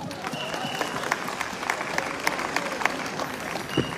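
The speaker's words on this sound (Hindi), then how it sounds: "ताली कम बजी समझ में नहीं आया" Thin, scattered clapping from a small audience at an award ceremony product launch, with individual claps standing out over a low murmur of room noise.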